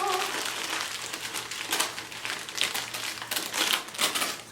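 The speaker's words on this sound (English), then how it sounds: "Crinkle, crinkle, crinkle." Wrapping paper on a Christmas present crinkles and crackles in quick irregular bursts close by, rustling on and off throughout with faint background noise.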